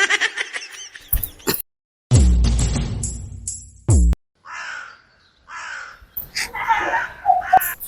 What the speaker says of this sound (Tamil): வீட்டு முன்னாடி காக்கா கத்துதுமா